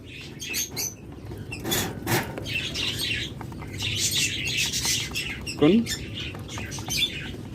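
A busy aviary of diamond doves and other small birds at a bird seller's: overlapping chirps, squawks and brief flapping, with a faint voice in the background.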